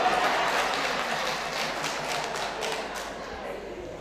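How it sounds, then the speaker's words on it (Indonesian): An audience claps together through a ceremony celebrating the couple Pak Ganta and Julianta, a dense, steady patter of hands filling the room for about four seconds without clear breaks. "Tepuk tangan lagi dong."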